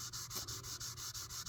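Micro mesh abrasive rubbed over the frets of a Fender Stratocaster neck during fret work, giving quiet, steady back-and-forth scratchy strokes in an even rhythm, about three per second, with no voices.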